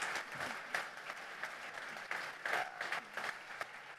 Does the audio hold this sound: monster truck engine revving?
no